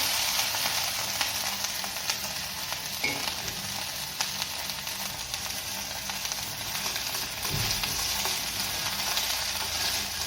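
Drumstick pods frying with cumin seeds in a tablespoon of ghee in a pan on a gas stove, giving a steady close sizzle and crackle throughout, with no voices.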